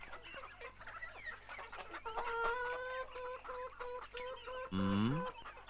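Hens cluck in a coop, a busy overlapping chorus of close, varied clucks and squawks, ending in a louder drawn-out cackle, with no talking over them.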